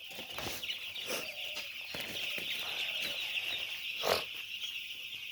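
Morning chickens roam and cluck nearby, with short repeated clucks and occasional louder calls over a steady background of birds and insects.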